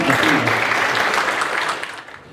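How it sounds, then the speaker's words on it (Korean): An audience at a defense-industry seminar applauds steadily after a speaker is introduced, a dense wash of clapping that fades out near the end. "장원준 박사님의 발표를 큰 박수로 듣도록 하겠습니다."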